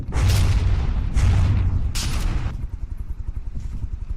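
Ship guns fire in the naval combat game From the Depths as three loud booming blasts about a second apart, each with a harsh crackling burst, followed by a low rumbling tail.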